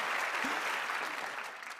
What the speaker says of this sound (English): could we give these people a big round of applause as they have a seat?